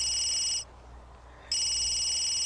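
Telephone ringing in The Sims 3 video game, a bright electronic ring that fills the first half-second, pauses briefly, then rings again to the end, with no talk.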